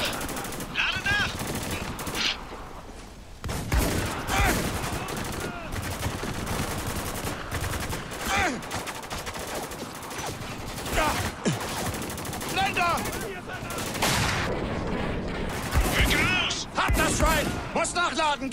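Heavy automatic gunfire and bursts of shots in the PC military shooter Spec Ops: The Line, loud and nearly continuous, with shouted voices mixed in throughout.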